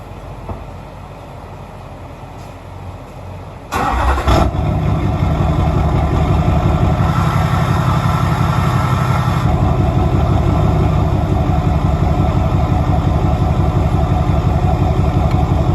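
A truck fitted with an Allison transmission starts up just after fresh fluid is added, the engine catching abruptly and then idling loudly and steadily for a long stretch with no talk.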